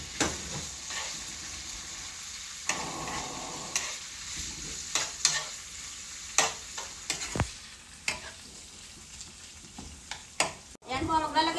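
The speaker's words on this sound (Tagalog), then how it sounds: "Gisa muna natin yung tokwa." Tofu sautéing with golden-browned garlic in a pan, a soft sizzle broken by frequent spatula scrapes and taps, close by, ending in a louder burst of clattering stirring.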